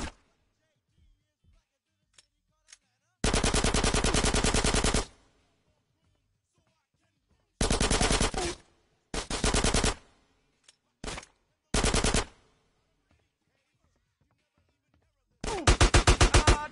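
Automatic gunfire in GTA San Andreas: several loud, sustained rapid-fire bursts separated by silent gaps and a few short single pops.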